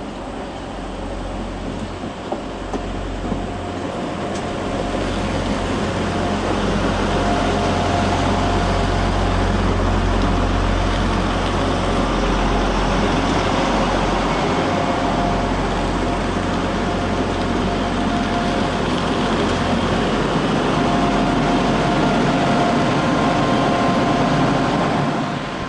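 A British Rail Class 175 diesel multiple unit passing at a Manchester station on its way to Manchester Airport, heard as a steady, loud engine rumble with a low drone and broadband rail noise sustained throughout, no talking.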